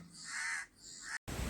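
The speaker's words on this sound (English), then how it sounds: "These are crows." Crow cawing: two harsh, nasal caws close together, loud and near, followed by a brief cut and then a burst of noise; no speech.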